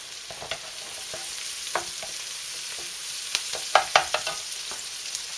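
Garlic dropped into a hot pan sizzles with a soft continuous hiss, broken by several sharp pops and stirring scrapes close by, with no talk.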